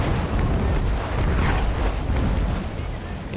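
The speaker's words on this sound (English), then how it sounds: "We need to get away from these heavy guns." Heavy ship cannons boom continuously in a naval battle in Naval Action, a dense, loud rumbling barrage with no clear gaps, and a voice likely talking underneath.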